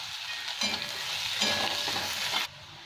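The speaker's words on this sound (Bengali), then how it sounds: "এবার পেঁয়াজটা আমি লাল করে ভেজে নেব" Chopped onion frying in a pan, browning for a prawn curry with potato and pointed gourd, a dense close sizzle with stirring scrapes that cuts off abruptly near the end.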